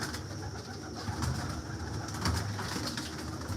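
Healthy female pigeons of a breeder's line coo in low, soft, repeated murmurs, with a faint steady background and no talk.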